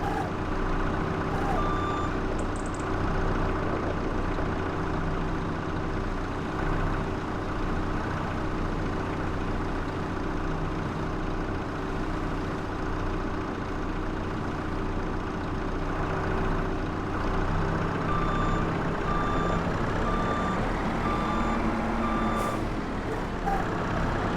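A forklift in the farming game Farm Restorer backs up with a steady series of evenly spaced electronic reversing beeps over a constant engine drone, continuing without pause and with no voices.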